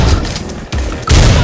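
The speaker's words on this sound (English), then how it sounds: "the huge bass registers on the gunfire really add to the meatiness of the action" Gunfire in the video game Butcher, several heavy, bass-laden shots fired in rapid bursts, loud and close, with no talking.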